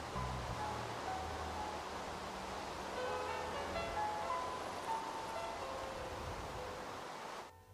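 Rain falls in Minecraft PE with shaders, a soft, even hiss of rainfall that holds steady and fairly faint before cutting off abruptly at the end.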